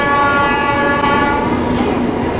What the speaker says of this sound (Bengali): স্টেশনে ঢুকেছি, সাথে সাথে ট্রেন চলে আসছে